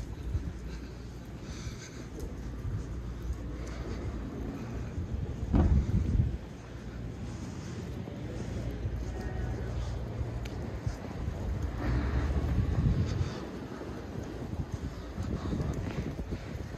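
Wind buffeting the microphone on the coast at Cala Ratjada, Mallorca, a continuous low roar with stronger gusts rising and falling, while a voice talks faintly underneath.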